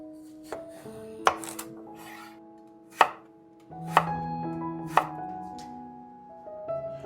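A kitchen knife chops spring onions and carrots on a board for a shrimp and celery stir fry. A handful of sharp, separate knocks land close by, with quiet pauses between them and no voices.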